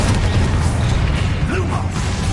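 Spell blasts and explosions in Hogwarts Legacy, a dense barrage of booming bursts and crashes piling up loud and close with no gap between them.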